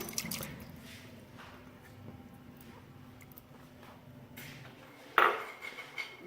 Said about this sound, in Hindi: अब इसमें पानी शामिल करेंगे 3 गिलास भर के।